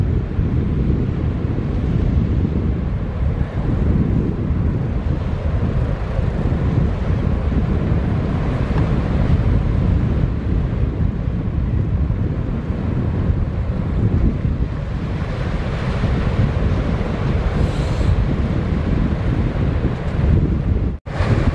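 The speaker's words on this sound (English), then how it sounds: "Nice cool breeze here this morning." Strong morning breeze buffets the microphone on open water beside a dredge, a loud continuous gusting roar with low rumbling wind noise and faint wave wash underneath, ending in an abrupt bump.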